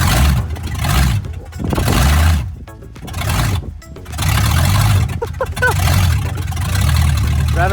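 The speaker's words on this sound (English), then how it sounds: "Rev it up." A car engine with a freshly installed motor revs in choppy, surging bursts, loud and near, rising and falling several times while a person talks intermittently.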